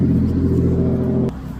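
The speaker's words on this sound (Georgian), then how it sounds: "აქ ხმაურია მანქანების" A car engine hums and rumbles steadily nearby, then the noise drops off abruptly as it passes.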